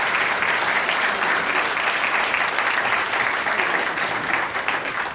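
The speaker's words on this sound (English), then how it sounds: "Give him a big round of applause." A conference audience gives a steady, dense round of applause, loud and continuous throughout with no pauses.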